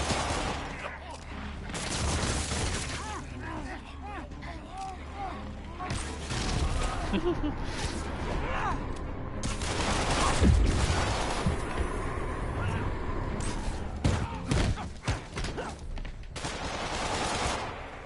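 Web bomb and suspension matrix attacks go off during a Spider-Man video game, a dense run of sharp blasts and bursts layered over constant combat noise, with voices talking in between.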